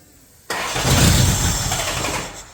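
A Toyota 22RE engine in a 1994 pickup cranks abruptly after a moment of quiet, then churns loudly and steadily for about two seconds before trailing off, close up with no talking.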